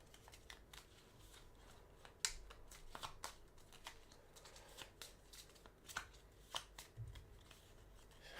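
A deck of Grim Reminders playing cards is shuffled by hand, faint quick riffles and soft papery snaps ticking in an irregular rhythm, close and quiet with no talking.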